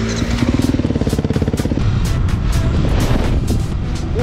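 A motorcycle ridden on a warm day, its engine droning loud and close with a rhythmic pulsing at first, then settling into a steady roar mixed with wind buffeting.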